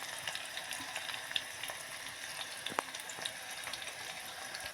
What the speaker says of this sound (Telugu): ఆనియన్ అయితే వేగింది ఫ్రెండ్స్.